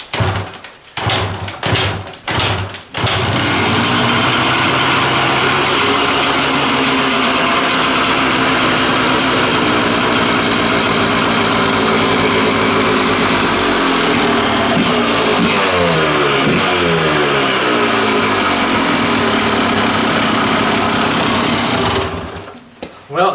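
A Kawasaki dirt bike engine starts after a few rough bursts, then runs loud and steady at a buzzy, high-revving pitch for about twenty seconds before cutting off, close up.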